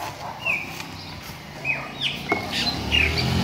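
A released pássaro preto, the chopi blackbird, calls outdoors on a neighbourhood street, giving several clear, whistled upslurred notes spaced apart, fairly close, over a low background hum with no talk.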